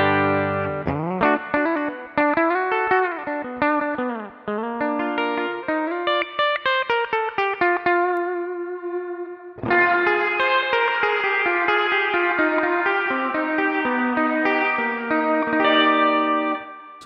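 Electric guitar played clean from the back pickup with a cab sim, run through the Sonicake Sonic Bar multi-effects reverb, a spring-and-plate blend: picked notes and chords ring out with lingering wash and a brief gap before fuller strumming.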